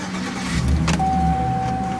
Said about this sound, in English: Car started at this present time.